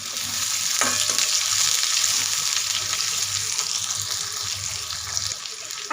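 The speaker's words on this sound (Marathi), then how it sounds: "ते सुद्धा आपल्याला इथं तेलामध्ये कच्चेपणा जाईपर्यंत परतून घ्यायचे।" Sliced onions sautéing in oil for a ridge gourd dish, producing a loud, continuous close-up sizzle with a faint steady hum underneath and no talking.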